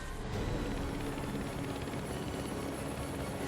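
Helicopter in the Ninja Gaiden II video game, a steady, loud rotor and engine drone that fills the whole stretch with an even, unbroken roar.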